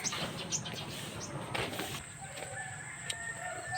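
Chickens at a farm that once kept pigs, with faint clucking and scattered bird calls over steady background noise and a brief flutter, fairly distant.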